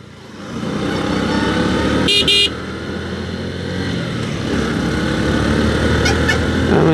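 A Bajaj Platina Comfortec 2018 motorcycle pulls through the gears on a road, its engine droning steadily and rising in pitch, with a car horn tooting briefly nearby and traffic around.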